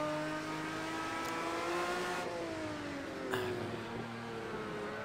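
A Jaguar Group C race car with a 7-litre V12 screams at high revs in Project Cars 2 at Hockenheimring, a steady sustained engine howl with pitch shifts as gears change, loud and close.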